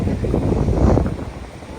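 Wind buffets the microphone at Niagara Falls as a steady low rumble with no voices over it.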